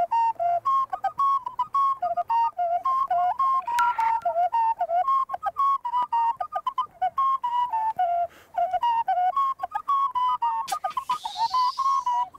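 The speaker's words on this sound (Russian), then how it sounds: "Шун Шишпак. Глиняный свисток." A Mari clay whistle, the shun shishpak, played up close in a run of warbling, bird-like trills and short repeated notes, with a couple of brief sharper bursts partway through.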